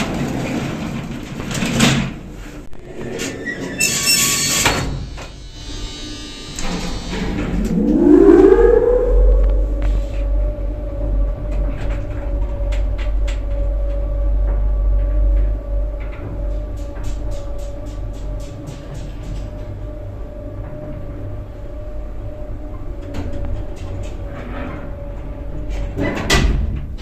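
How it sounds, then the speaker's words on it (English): A 1960s Marryat & Scott service lift motor starting up amid door and mechanism clatter, its pitch rising into a loud, steady hum that runs on continuously with faint clicks of relays and equipment. "That's got a really good motor sound."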